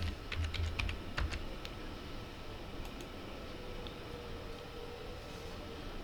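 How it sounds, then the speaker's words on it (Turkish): Typing on a computer keyboard, a quick burst of close key clicks over the first second or so, then only steady background hiss. "Gelen ekrana hemen Pardus yazıyorum."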